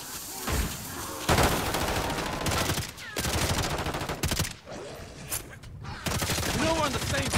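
Dense bursts of automatic gunfire in Call of Duty MWIII multiplayer during a Hordepoint event, rattling loudly and almost continuously with brief gaps, mixed with game voice callouts.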